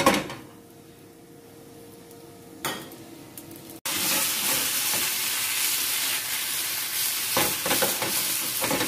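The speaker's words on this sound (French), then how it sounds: "On va chauffer notre huile tout doucement. Et on va y mettre nos betteraves." Beetroot drops into gently heated oil and begins frying, setting off a loud, steady broadband sizzle that fills the rest of the clip after a brief quieter stretch with a few soft kitchen knocks.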